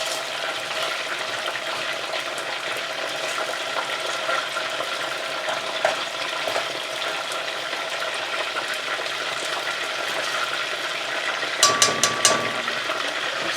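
Chicken pieces sizzling in hot oil during the second fry for Chinese lemon chicken, a steady close crackle throughout with a few louder spatters near the end.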